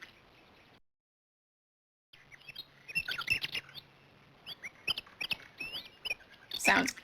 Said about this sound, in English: We found some birds